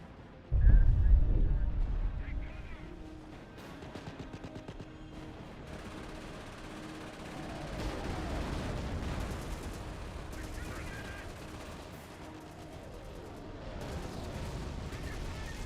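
A 60 mm mortar barrage and gunfire in a war video game: a heavy boom up front, then a steady rumble of distant explosions and rattling shots continuing throughout.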